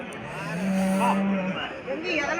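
A cow gives a long, low moo up close, with livestock and people murmuring in the background of a busy cattle market selling dairy cows and buffalo.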